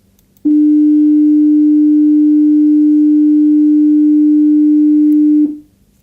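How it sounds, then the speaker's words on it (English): A steady, pure sine tone at 300 hertz sounds loud and unwavering for about five seconds, starting abruptly and stopping cleanly. "So, this is how it sounds like, and the frequency is right now 300 hertz."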